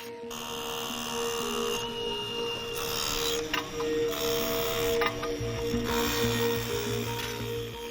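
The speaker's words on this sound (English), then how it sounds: "Pickaxes and drills are used to tackle the ice." Pickaxes and drills break up ice on iced-over rail tracks in the cold Swiss Alps, a steady mechanical grinding and rattling drone with irregular knocks and scraping impacts throughout.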